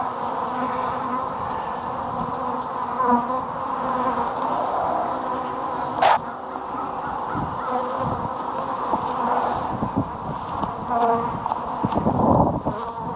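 Honeybees buzz steadily around an open hive during an early pre-spring inspection after a long winter, a continuous insect drone with a brief sharp click midway and faint background noise.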